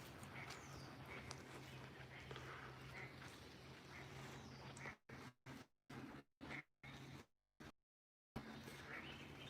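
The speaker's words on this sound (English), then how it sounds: "that duck has a lot to say. Can you guys hear him quacking his head off?" A duck quacks repeatedly in an outdoor nature preserve with old trees, the calls loud and near in the first half before the sound cuts in and out in short bursts.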